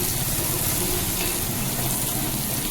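Slit green chillies and shallots sauté in a pan, a dense, loud, unbroken frying roar heard close up with no pauses.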